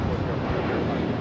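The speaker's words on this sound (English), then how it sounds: "This is United Airlines 1981 taking off to Newark on the 757-200" United Airlines Boeing 757-200 takes off at LAX bound for Newark, a broad, steady jet roar filling a very short moment without speech.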